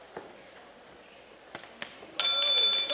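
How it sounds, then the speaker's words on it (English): A boxing ring bell rings loudly and steadily to end the first round of the Giemel Magramo vs Denmark Quibido bout at a Blow by Blow event, after a few sharp knocks over faint crowd and arena noise. "Oh, nakatama din si Quibido at the sound of the bell."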